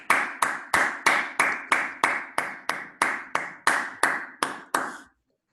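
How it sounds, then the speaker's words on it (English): About a dozen evenly spaced, crisp claps from a single pair of hands ring out close to the microphone after an online probability seminar talk, then cut to silence. "So maybe clapping or something."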